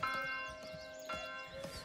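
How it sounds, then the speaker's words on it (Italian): Church bells ringing in a medieval village in the Manor Lords video game, a few soft tolls with lingering tones, faint and distant against a quiet background. "Sta suonando le campane."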